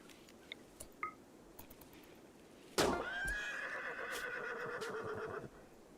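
In the video game RimWorld, soft clicks and shuffles, then a loud horse neigh bursts out and trails off in a long, wavering whinny that holds for a few seconds.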